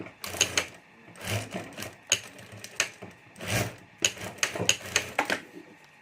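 A sewing machine stitches a zip strip onto the border of a fabric pencil pouch in short, loud bursts of rapid needle clatter separated by brief pauses.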